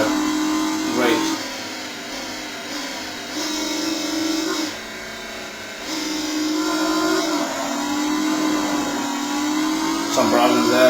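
A motorbike engine from the racing video game Riding Spirits 2 holds a loud, steady buzzing drone, its pitch rising and dropping through gear changes over about eleven seconds, with a voice talking over it.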